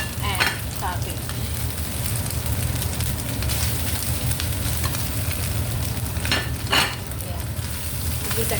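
Mushroom and cabbage sautéing in a pan for spring roll filling, giving a steady, close frying sizzle with a few sharper stirring scrapes, heard alone without talk.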